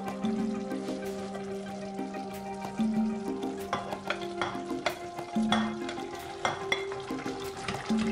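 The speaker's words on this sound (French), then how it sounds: "Je mets du tofu et puis je laisse mijoter quelque temps." Tofu simmers with green beans and tomato in a pan, a soft bubbling hiss under repeated scraping and clinking of a utensil stirring, with tonal hums drifting through the steady cooking noise.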